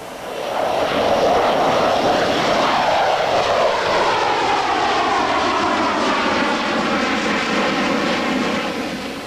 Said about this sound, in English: This is Nia's first flight, a 2-hour journey on Air Vietnam.